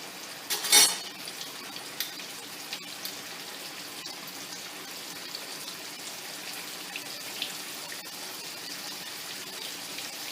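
Tilapia fillets fry in hot grease in a crowded pan, a steady hissing sizzle after a brief loud splash at the start, with occasional small clinks and no talk.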